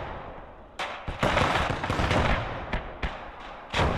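Autocannon and small-arms gunfire in the World War II strategy game Gates of Hell with the Gates of Steel mod, a dense, continuous barrage of overlapping loud shots and bursts with sharp cracks standing out.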